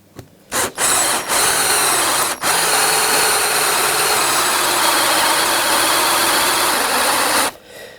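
A drill with a masking-tape depth stop bores into an electric guitar body, a loud continuous whirring grind that starts after a couple of short bursts and runs for about seven seconds before cutting off.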